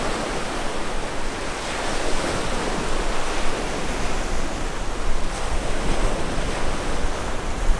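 Gulf of Mexico surf near Fort Myers, Florida, heard from someone standing in warm water: a continuous close wash of waves with gentle swells in loudness.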